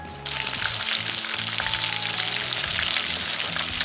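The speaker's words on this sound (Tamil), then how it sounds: "பிசைஞ்சின்னு எண்ணெய் சட்டி வச்சு வறுத்து எடுத்துக்கலாம்" Salted, mixed prawns drop into hot oil in a pan. A loud, dense sizzle starts abruptly and holds steady close by, with no speech.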